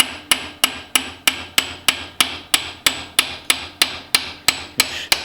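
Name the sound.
hammer tapping bearing into place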